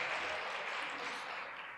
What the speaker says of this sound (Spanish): Le podemos dar un fuerte aplauso a nuestro grupo de alabanza